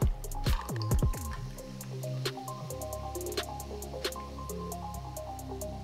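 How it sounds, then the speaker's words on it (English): Ginger beer poured over ice for a Jägermeister Berlin Mule cocktail, with a liquid pour under a run of bright clinks and ice crackles, steady and close. "Let me add a little more ice and add the best ginger beer in the world."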